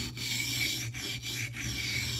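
A mini cleaver edge is scrubbed back and forth on a sharpening stone at a steady angle, giving a continuous close rasping rub broken by a few brief pauses as the stroke changes direction.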